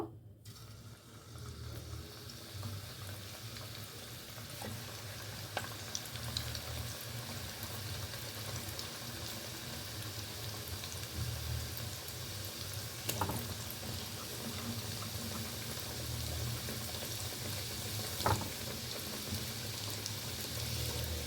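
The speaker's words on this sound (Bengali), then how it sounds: "এখন এইগুলোকেও আমি ঠিক আগের মতো লাল লাল করে ভেজে এই শিরার মধ্যে দিয়ে দিব" Sweet potato rosbora dumplings fry in hot oil with a faint, steady sizzle and bubbling that runs throughout, broken by a few soft clicks and taps, with no talking.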